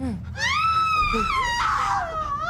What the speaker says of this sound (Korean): 비명 소리에 놀라 거실로 뛰쳐나갔습니다.